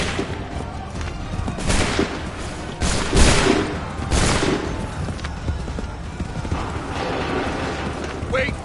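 In Assassin's Creed 3, a volley of musket gunfire bursts out in several booming, crackling shots over a busy battlefield din, with voices shouting orders.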